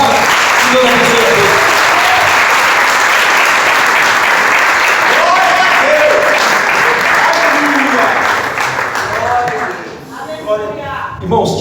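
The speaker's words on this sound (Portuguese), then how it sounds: "Você pode aplaudir ao Senhor por esta palavra?" Loud, sustained applause from a large church congregation after a sermon, thinning out near the end as a few voices and scattered claps remain.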